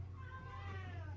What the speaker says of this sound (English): My cat has decided he wants to lay in his cat bed, which he never does, while I'm sitting here, and he's meowing.